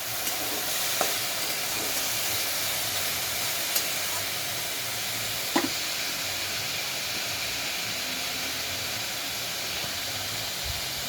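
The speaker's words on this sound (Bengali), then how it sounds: "সবজিগুলোকে আমি ঘিয়ে ভেজে নেব।" Vegetables frying in ghee in a pan, a dense steady sizzle and hiss close by with occasional soft stirring knocks, no talk.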